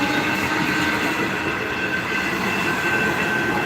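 A train passes close by, a steady loud rumble and rattle of rail wagons with faint wheel squeal and no voices.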